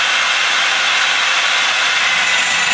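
Electalfra MBS Pro magnetic drill cutting into stainless steel at about 500 RPM, a steady, loud, hissing whine with constant grinding texture that holds evenly from start to finish with no talk.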